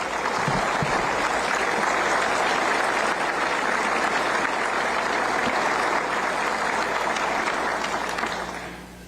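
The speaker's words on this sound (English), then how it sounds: "Let's give them a round of applause." Sustained applause fills a large hall during a governor's State of the State address, a steady dense roar of clapping that holds level for several seconds before fading out at the end.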